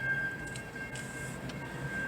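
A train rumbles near the depot in downtown Dalton, a steady low mechanical drone with a faint high-pitched whine running through it.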